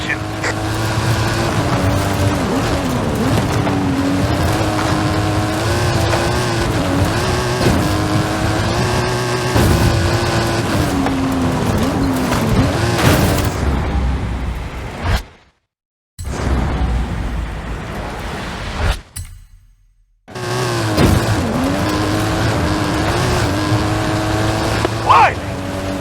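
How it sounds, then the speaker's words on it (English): A custom-engined stunt car in Forza Horizon 5 roars uphill under a sustained loud engine drone with shifting pitch, broken by two brief silent cuts, with voices talking over it. "That stunt vehicle is a Mike Steel Special."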